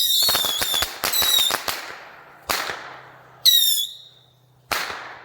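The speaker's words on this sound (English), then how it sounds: "If you didn't hear me the first time, it was 144 bottle rockets." Salvo of bottle rockets fired from a launch pad, 144 in all: a fast cluster of sharp cracks with brief whistles, then loud bursts spaced a second or so apart, each decaying into crackle, no talk.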